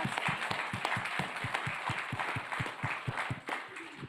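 Audience applause at a youth food innovation awards event, a steady, fairly even burst of many hands clapping with distinct rhythmic claps standing out, heard at a moderate distance without talk over it.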